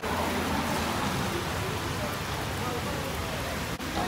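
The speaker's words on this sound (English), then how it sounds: "It's fucking raining again." Steady, dense rain pours down with a constant hiss and patter, loud and close, unbroken for a few seconds.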